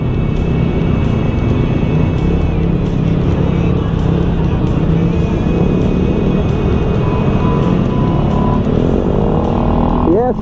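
Heavy road traffic on Commonwealth Avenue in the Philippines forms a constant dense rumble of engines and passing vehicles, with someone talking over it throughout.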